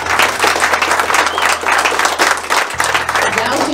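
At the opening ceremony of the Federal Cup 2024, a crowd breaks into dense, sustained applause with steady clapping and a low hum beneath it.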